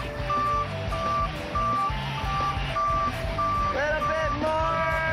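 A cement truck reverses with evenly spaced high backup beeps repeating over a low rumbling diesel engine, loud and nearby, while a person talks briefly partway through.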